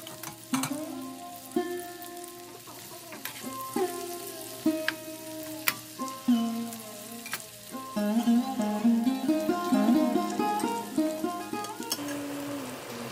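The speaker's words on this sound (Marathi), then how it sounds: "यामध्ये आपण मसाला भरलेला भेंडे टाकून घेऊया आणि एक वेळा मिक्स करून याच्यावर झाकण ठेवून देऊया" Masala-stuffed okra (bhendi) frying in hot oil in a covered pan: steady crackling sizzle with sharp pops and occasional spatula clinks, swelling louder midway as the pieces are stirred, close and without voices.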